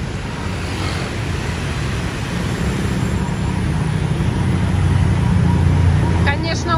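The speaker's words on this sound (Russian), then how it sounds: "Такие вот оживленные улицы Вьетнама." Busy street in Ho Chi Minh City, a dense steady roar of traffic, mostly scooters, close and loud throughout.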